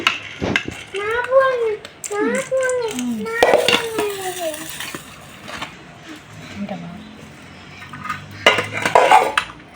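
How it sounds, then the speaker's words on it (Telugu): Boondi is tipped into hot sugar syrup in a pan and stirred, giving clinks and scrapes of a spoon against metal, with a voice and adult speech in the background. "ఇప్పుడు మన షుగర్ సిరప్లో బూందీ అంతా వేసేసుకుందామండి."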